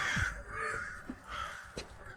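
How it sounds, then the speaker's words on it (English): Black crows cawing: a few harsh, separate caws at moderate distance over quiet ambience, with short gaps between calls. "Let the black crows beat their wings harder."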